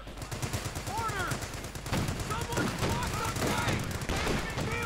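In the video game Company of Heroes 2, a light infantry gun fires amid battle noise. Repeated sharp shots crack in quick succession over a dense layer of gunfire, with faint voices mixed in.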